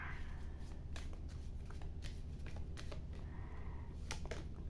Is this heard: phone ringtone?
no